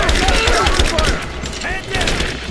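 Dense, rapid gunfire from Rise of the Tomb Raider, with overlapping shots crackling loudly and continuously through the whole stretch, briefly thinning near the middle before resuming.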